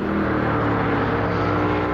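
A 1977 Ford Falcon race car engine at the Bathurst endurance race, running steadily at held-back revs, a loud continuous drone with no talk over it.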